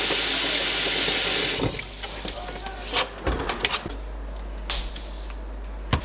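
Water runs from a tap into a bucket in a steady loud rush for a couple of seconds, then turns off, followed by thumps and handling noises from the bucket.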